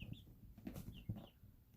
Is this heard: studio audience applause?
no